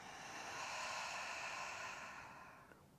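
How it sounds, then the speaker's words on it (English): A single long, breathy open-mouth exhale during a yin yoga breathing exercise, quiet and close, swelling and then fading over about three seconds. "and an open mouth exhale"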